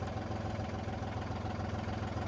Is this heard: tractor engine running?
yes